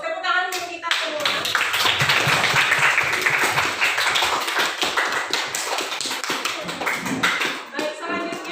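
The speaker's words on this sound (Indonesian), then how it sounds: "Tepuk tangan untuk kita semua." A class of students claps together in a classroom during an Islamic studies lesson, a burst of quick, rhythmic hand claps starting after a brief spoken moment and continuing loudly, close and bright, then tapering into scattered claps.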